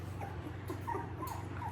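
Two-week-old British Labrador puppies whimper and yip softly in short, faint bursts over a low steady hum, with no talking.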